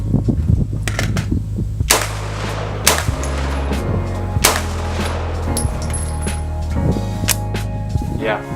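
A 300 Blackout SBR and pistol carbines fire repeated sharp shots at an outdoor range, some in quick strings and others spaced apart, fairly close and loud.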